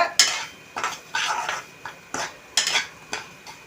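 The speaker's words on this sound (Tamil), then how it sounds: "நல்லா வறுக்கணும் அப்போ தான் ஒட்டாது" A spoon stirs semolina roasting in ghee in a pan for sweet kesari, with repeated close scraping strokes in a steady rhythm and no talking.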